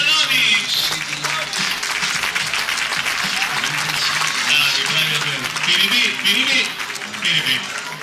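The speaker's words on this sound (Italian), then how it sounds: "Un bellissimo spreco di Applauso ancora ai farfalloni!" A New Year's Eve party audience in Castelbuono loudly applauds the comedy troupe I Farfalloni, sustained, energetic clapping close by with cheers and voices rising throughout.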